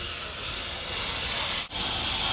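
Steady loud hissing roar of a cutting torch slicing off intact bolts at the bottom end of a steel box beam, continuous and close, with one brief dropout near the end.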